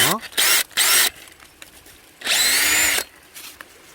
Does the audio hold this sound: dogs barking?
no